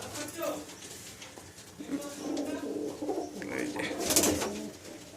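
Male pigeons coo in a low, rolling murmur nearby while a person talks over them, with some shuffling and fluttering in the background.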